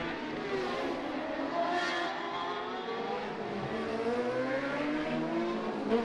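Honda racing motorcycle on the SMT team's machine during qualifying at the Macau Motorcycle Grand Prix street circuit, its engine droning steadily and loud throughout with shifting pitch, no talk over it.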